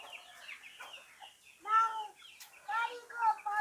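Backyard chickens cluck and call in short, harmonic bursts near the microphone, mixed with quieter chatter-like sounds and faint background noise.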